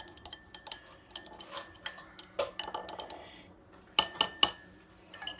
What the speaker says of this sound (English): just mix it until it's fully dissolved